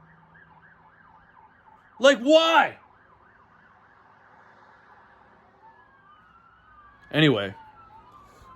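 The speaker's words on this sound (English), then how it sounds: "There's a freaking ambulance out my window." An ambulance siren wails outside a window, shifting between a steady oscillating tone and a falling and rising sweep, fairly faint and distant, with someone speaking briefly twice over it.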